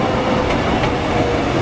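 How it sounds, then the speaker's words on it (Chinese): Train rumbling steadily into a station platform in Taiwan, a loud continuous roar of wheels and carriage noise close by, with no voices over it. "第二月台 A 侧即将进站的车只行驶到本站"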